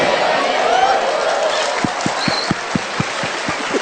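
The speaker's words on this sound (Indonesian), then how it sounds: "Tepuk tangan sendiri." Studio audience applause breaks out briefly in a small, sparse patter of claps under a room murmur, with a speaking voice over the start before the clapping thins into scattered individual claps.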